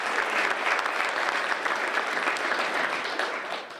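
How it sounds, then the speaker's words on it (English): A forum audience of county supervisors breaks into dense, sustained applause, many hands clapping together in a continuous wash that tapers off at the very end. "Let's give Joe a round of applause, and thank you for coming."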